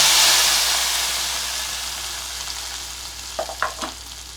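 Hot oil tempering with cashews sizzles loudly in a pot of bisi bele bath, a bright hiss that gradually fades, followed by a few brief clinks or stirring knocks.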